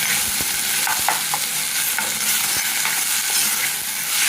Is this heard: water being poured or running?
no